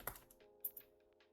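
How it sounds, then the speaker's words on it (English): Several quiet computer keyboard clicks while someone types in InDesign, uneven and close, with no voices over them. "I'm typing in InDesign"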